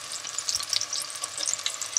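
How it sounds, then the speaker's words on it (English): Onion frying in a pan crackles and hisses in a bright, continuous sizzle with small popping spatters, close and fairly loud. "Fried onion."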